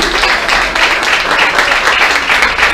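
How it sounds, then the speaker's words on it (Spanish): Congregation at a church service led by Pastor Luis Carlos Castro applauding in praise of Jesus, a dense, steady wash of clapping from many hands that holds at even loudness throughout, with no speech over it. "¿Cuántos le pueden dar un aplauso a Él?"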